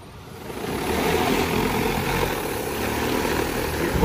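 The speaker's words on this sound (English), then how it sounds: "so we're going to take off with the drone" An XAG P100 Pro agricultural drone taking off, its propellers producing a loud broadband whirring roar that swells up within the first second and holds steady, close by.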